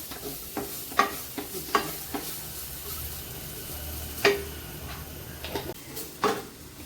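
Crushed coconut roasting in a pan for ginger curry, a soft dry sizzle with intermittent scraping clicks of a spoon stirring against the pan.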